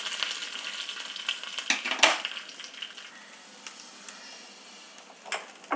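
Mustard seeds and curry leaves sizzle in hot tempering oil, a quiet, steady crackle broken by sharp pops and a few small clinks, with the loudest burst about two seconds in.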